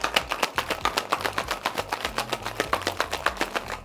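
A cocktail shaker shaken to mix a vodka cocktail with ice, heard as a quick, even run of about fifteen sharp rattling shakes, close and clear.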